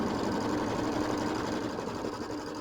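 An embroidery machine stitches a quilt block with a continuous, rapid mechanical whir and rattle, steady and close, with no voices.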